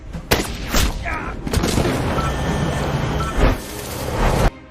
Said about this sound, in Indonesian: Jane langsung terkejut dan melepaskan tembakan ke arah John